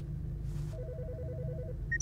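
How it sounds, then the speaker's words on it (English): A telephone rings in a co-op horror video game: one short warbling ring burst at moderate volume over a low ambient hum, followed by a couple of brief higher beeps. "Oh my god, the phone's ringing."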